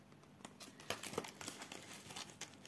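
Crinkly tearing and crackling as tape is pulled away from cardboard, a close series of irregular rips and rustles with no talking.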